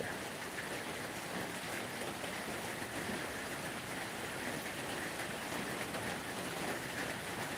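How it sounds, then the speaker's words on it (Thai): Rain pours steadily at a forest temple in rural Thailand, a dense unbroken hiss close by with no voices, even in loudness from start to finish. "บรรยากาศฝนตกด้วย"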